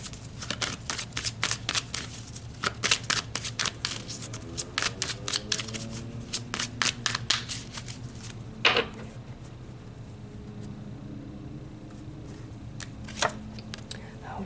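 Oracle cards shuffled by hand at close range, a steady run of quick papery riffles and flicks, with a few sharper snaps and softer slides toward the end; no speech.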